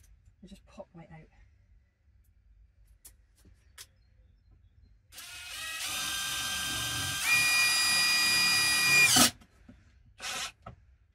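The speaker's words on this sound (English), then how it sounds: "This kind of double-ended drill bit is not good in these. They just pop right out." An electric power drill with a double-ended bit whines loudly for about four seconds, rising in pitch partway through before cutting off. Short tool knocks and handling sounds come before and after it.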